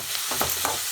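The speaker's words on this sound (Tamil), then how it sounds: "தக்காளியும் ஒரு 2 நிமிஷம் வதக்கிக்கலாம்." Tomatoes and onions sauté in a pan with a steady sizzle, and a couple of quick stirring scrapes come through in a short burst.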